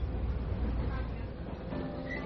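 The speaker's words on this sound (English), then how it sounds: "I've hopped onto the old Pingxi railway line and to one of the older trains" Rumbling interior of an old train running on the Pingxi railway line in Taiwan, a loud steady roar of wheels and carriage with faint squealing tones near the end.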